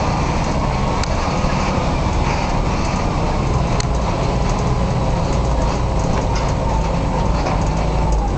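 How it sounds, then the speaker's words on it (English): A GMC tender truck, its auger refitted and hinge freshly welded, drives on a test run, giving a loud, steady engine rumble and mechanical rattle that continues without a break, with no voices. "taking our GMC for a little test drive."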